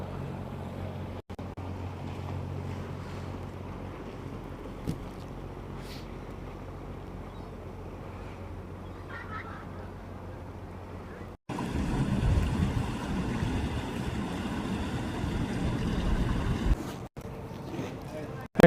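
Small passenger ferry on a harbor inlet in Vancouver approaching a jetty: a steady low engine rumble with lapping water, growing louder and rougher toward the end as the boat draws near.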